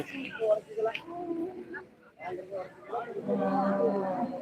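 Cows low at a busy livestock market in Manapparai, Tiruchirappalli district, several drawn-out moos rising near and loud amid crowd chatter and talking voices.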